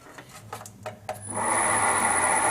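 A milling machine fitted with a 10mm carbide four-flute end mill starts after a few faint clicks and knocks, then settles into a steady, close mechanical whine and hum that continues to the end.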